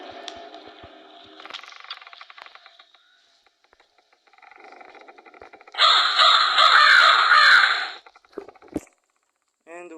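A crow cawing in the puzzle game Cube Escape: Paradox, loud harsh caws mixed with game sound effects and music, including a long grating burst in the middle, while a voice talks intermittently.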